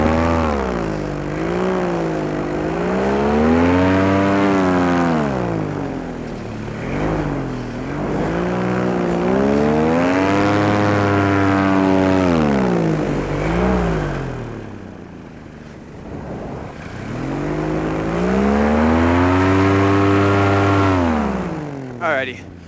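A small airplane's engine drones through flight, loud and continuous, its pitch rising and falling as power changes, with a short dip in level partway through.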